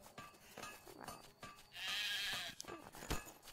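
A sheep in the video game Craft The World gives a clear, wavering bleat in the middle, set among faint game clicks and soft effects at low volume.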